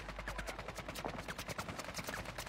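Gunfire in a shooter video game with snipers firing from above rattles in rapid, evenly spaced shots, faint and continuous with no talk.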